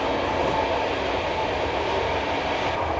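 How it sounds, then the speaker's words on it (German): Old Intercity railway carriages running behind a class 120 locomotive between Athens and Koropi in Greece make a loud, steady rumble and roar from inside the train, continuous throughout with no voices. "Und ihr hört die alten Intercity-Wägen, wie wahnsinnig laut sie sind."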